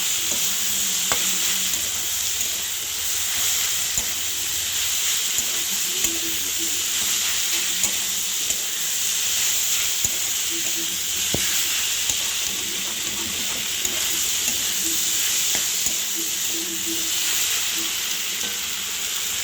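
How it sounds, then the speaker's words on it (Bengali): Spices are stirred into taro stolons cooking with prawns and a pinch of sugar, a loud steady sizzle with repeated scraping stir strokes and small clicks throughout, close up and without speech. "সমস্ত মশলা দিয়ে আমি ভালো করে মিশিয়ে নিচ্ছি।"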